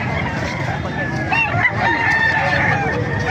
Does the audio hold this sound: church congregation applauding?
no